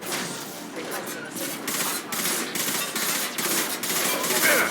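Rapid automatic gunfire in the video game Mass Effect Legendary Edition, bursts of sharp repeated shots in quick succession with some louder cracks, continuous through the moment.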